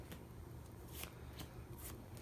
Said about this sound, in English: I have a unique way I like to shuffle, just to mix it all up.